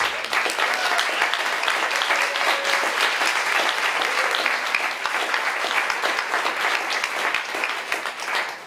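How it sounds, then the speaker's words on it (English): A community organizing talk audience gives a big round of applause, thick continuous clapping from a full room that holds steady for several seconds before tapering at the end. "I'd like to ask for a big round of applause for them."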